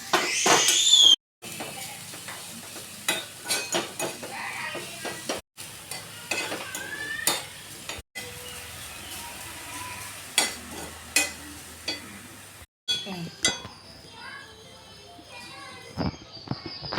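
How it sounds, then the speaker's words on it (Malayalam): Dried prawn powder stirred and dry-roasted in a pan for a chutney powder, with scraping, scratching strokes and a soft hiss repeated in short bursts, broken by brief gaps of silence. "ഒരു ചീനച്ചട്ടി അടുപ്പത്ത് വെച്ച് അതൊന്ന് വറുത്തെടുക്കണം"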